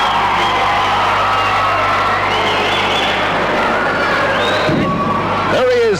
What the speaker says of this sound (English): A big round of applause for Mil Mascaras.